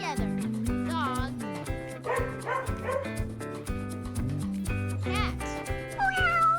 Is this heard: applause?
no